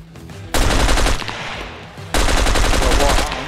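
Automatic gunfire in the video game SCUM rattles off in two loud, sustained bursts, close and heavy, with a short drop between them.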